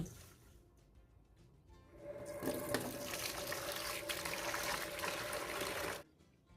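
Running water splashes steadily into a sink as chicken offal is rinsed by hand, starting quietly and growing louder before cutting off abruptly.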